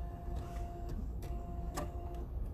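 A sewing machine topstitches a small fabric strap with a straight stitch, making a steady close mechanical whir with light rhythmic ticking.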